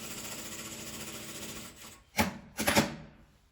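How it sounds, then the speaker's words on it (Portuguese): A sewing machine runs a wide-stitch seam along a ruffle edge, with a steady soft mechanical whir followed by two short louder bursts of stitching near the end, close and without talk. "vou passar uma costura aqui na beiradinha. Com ponto largo mesmo"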